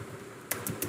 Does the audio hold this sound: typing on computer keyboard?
yes